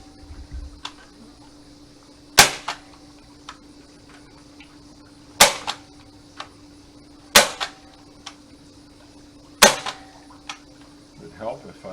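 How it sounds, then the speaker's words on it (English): A hand stapler drives staples across wires on a wooden bee candy box, giving four sharp, loud snaps spaced a couple of seconds apart, with faint softer clicks and handling noise between them. "I'm just going to go about every 3 or 4 inches and put a staple in across the wires"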